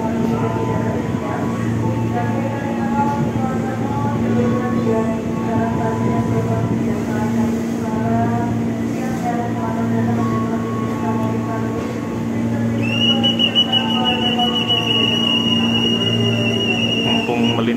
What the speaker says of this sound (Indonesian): ini 4 dari timur ini akan melintas suatu kereta api